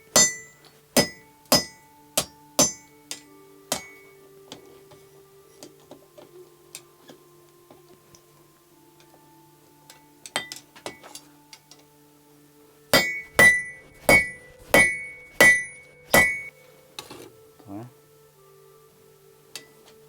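A blacksmith hammers the end of a pair of tongs on an anvil, striking in two bursts of sharp, ringing metallic blows at a steady rhythm with a quieter pause between them.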